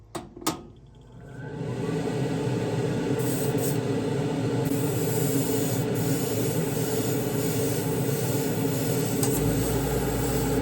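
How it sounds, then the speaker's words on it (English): A Gaahleri airbrush, set to a fan pattern, sprays mist coats of thinned Kaleido paint: after a couple of sharp clicks, a loud continuous airy hiss runs steadily and alone. "Now the beauty of this airbrush is you can shoot mist coats like I'm doing right now"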